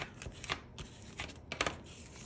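Paper journal tag being flattened out by hand, with a few soft crinkling, rustling bursts spaced across a short, quiet stretch and no talking.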